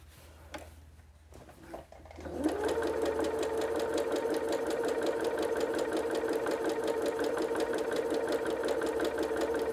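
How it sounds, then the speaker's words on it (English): A sewing machine stitching quilt pieces starts after a couple of seconds of quiet handling noises, then runs steadily with a fast, even mechanical hum and clatter close by. "So I'm going to go ahead and sew all 16 of these through."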